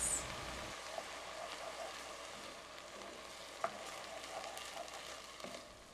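Rice grains toast in butter in a pan, giving a faint, soft crackling sizzle with light stirring and an occasional small clink, fairly quiet throughout.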